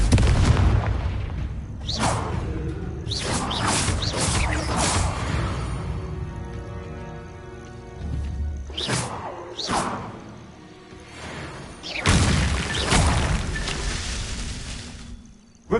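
Repeated Confringo spell blasts in Hogwarts Legacy, booming explosions with whooshing bursts arriving in clusters, separated by quieter stretches of game ambience and with no talking.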